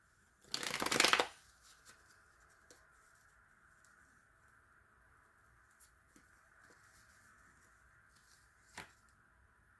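A deck of tarot cards is riffled in a loud, close burst of rapid fluttering that lasts about half a second. Faint card handling and soft clicks follow over a steady room hum.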